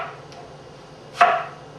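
A kitchen knife slicing through planks of butternut squash into strips, one sharp crisp chop against a cutting board after a quiet pause.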